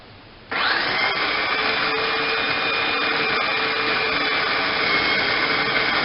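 A food processor blending pesto switches on after a half-second of quiet and then roars at a steady, loud, high-pitched whir, with no pauses and no talk.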